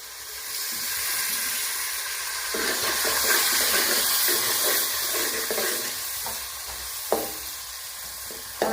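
Tomatoes go into frying masala for Kathiawadi-style Rajasthani dal baati, bringing up a steady hiss and sizzle with light stirring scrapes and a couple of sharp clinks near the end.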